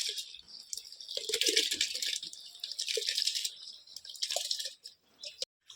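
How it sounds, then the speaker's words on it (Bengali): Soaked basmati-type rice is poured into a pot of hot water, giving close bursts of rattling, splashing patter that come and go before stopping near the end. "এবারে দিয়ে দিলাম চালটা"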